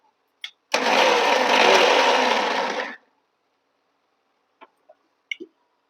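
A mixer grinder gives one short burst, whirring loud and close for about two seconds, as it blends cooked chana dal with cardamom for kozhukattai filling, then stops, leaving a few small clicks and clinks of the jar.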